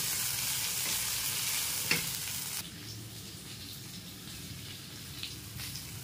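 Chopped tomato, turmeric and salt are stirred into hot oil for a Bengali hilsa dish, with a continuous moderate sizzle, a sharp clink near the start and softer, quieter frying afterward, and no voices.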